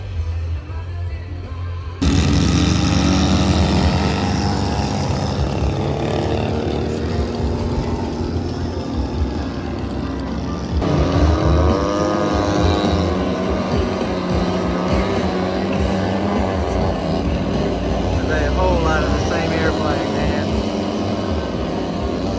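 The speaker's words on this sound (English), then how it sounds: "all these RV8s are gonna go up at one time." Several RV-8 propeller airplanes take off together at a fly-in, a loud sustained engine drone that swells after a sudden onset and holds steady, with some talk in the background.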